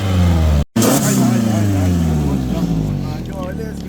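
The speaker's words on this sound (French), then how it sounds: "Un petit coup de gaz, juste un petit coup." A car engine is given a short burst of throttle, a loud rising rev that falls away after a brief cut, over a rushing roar near a torrent; someone talks over it.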